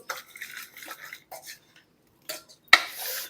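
Beef larb being stirred with fragrant toasted rice, fish sauce and chili flakes in a bowl, giving soft scraping and clinking of a utensil in scattered bursts, with one sharper clack near the end.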